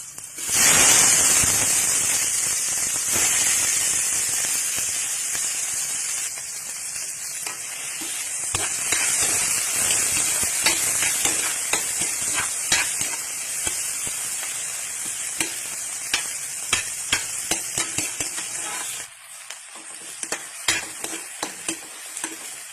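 Onion and tomato sautéing in hot oil for a Filipino mung bean dish, a loud steady sizzle with rapid clacks and scrapes of a spatula against the pan, close up, ending in a brief pause.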